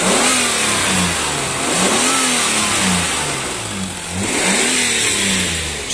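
A Jeep Cherokee XJ engine revs repeatedly, the pitch rising and falling in several surges over a steady rumbling idle, heard up close with no talking.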